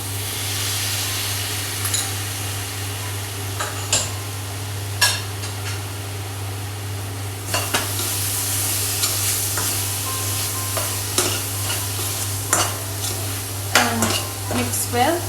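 Tomatoes sizzling in a pan while being stirred for palak paneer, a continuous close frying hiss punctuated by scraping stirs and occasional clinks of the utensil against the pan.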